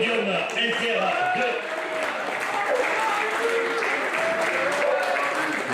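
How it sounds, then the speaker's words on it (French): A crowd applauds the podium at a motocross trial event, with steady clapping and scattered cheers over a public-address voice and background chatter. "Allez, on peut applaudir ce podium inter"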